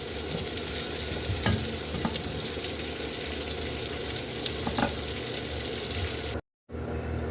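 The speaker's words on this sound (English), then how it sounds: "we've got the sweet potatoes nice and seared off and tender for the most part" Sweet potatoes searing in a hot pan, giving a continuous close sizzle with occasional stirring clicks and scrapes, then a brief drop to silence near the end.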